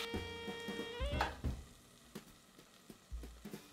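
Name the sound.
beef searing over high heat in bacon fat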